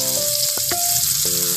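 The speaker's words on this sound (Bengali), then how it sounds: "এবার আমি এই তেলের মধ্যে পেঁয়াজ কুচি দিয়ে দেবো।" Chopped onion hits hot oil for an egg dopiaza and sizzles loudly and steadily, a close, continuous hiss with a few brief clinks over it.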